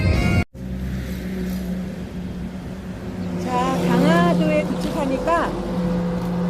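A car passes on a road near Chojijin on Ganghwa Island, Korea, with a steady engine rumble that swells and fades, while people talk nearby in the background.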